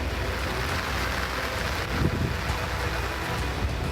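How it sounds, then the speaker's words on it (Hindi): Floodwater rushes through village streets and lanes in a constant, dense roar of flowing water, steady and fairly loud with no voices. "गांव की गलियों और सड़कों पर बाढ़ का पानी तेज रफ्तार से बह रहा है"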